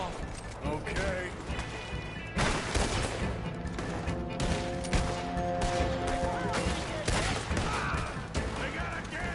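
A Gatling gun fires in a bank shootout during a PS4 video game, its rapid automatic bursts and loud crashing impacts coming in repeated volleys while players talk over the gunfire.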